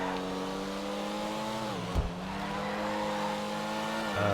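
Pfister Comet SR sports car in a driving video game, engine revving steadily and climbing through gears, with one brief shift dip midway and a fresh surge near the end, heard close and alone.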